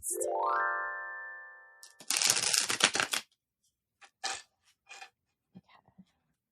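Tarot cards are shuffled in a quick riffling burst lasting about a second, followed by a few brief, quiet card taps, after an opening chime-like tone.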